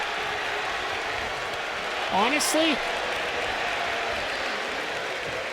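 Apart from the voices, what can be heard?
crowd cheering in WWE 2K25 video game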